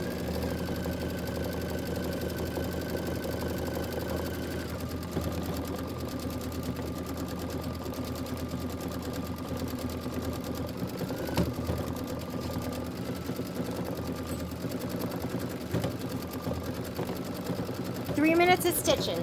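Quilt blocks stitched on a sewing machine, a steady mechanical whir running continuously at close range, with talk over parts of it and a brief clatter near the end.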